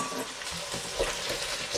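Tomato paste being stirred into a stewing pot for pork and bean pepperpot: a brief, soft wet scraping and bubbling sizzle, fairly close and steady, with no voices.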